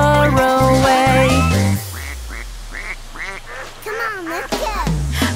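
Cartoonish duck quacks in a children's nursery song, a run of repeated nasal quacks after a bouncy musical opening, with music playing underneath.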